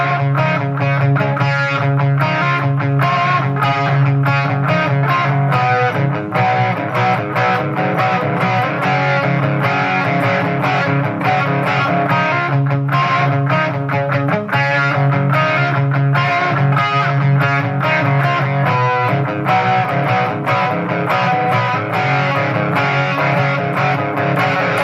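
An electric guitar plays a distorted rhythm part, a dense, continuous strummed riff, loud and close for the whole passage with no talking.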